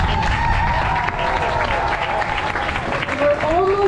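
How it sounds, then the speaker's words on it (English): Applause rises from the crowd at a coronation event, a loud and busy spread of clapping with voices talking over it and a few cheers and calls mixed in throughout. "Let's give everyone another round of applause"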